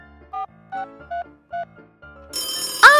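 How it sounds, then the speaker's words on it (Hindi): A cartoon telephone rings in four short, evenly spaced electronic trills, followed by a burst of bright, sweeping animated sound effects at the end. "टेलीफोन बज रहा है।"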